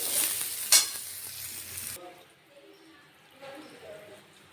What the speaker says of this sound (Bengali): আলু পটল একসঙ্গে ভেজে নেব।